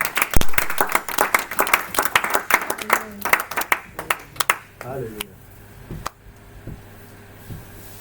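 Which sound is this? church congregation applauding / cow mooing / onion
church congregation applauding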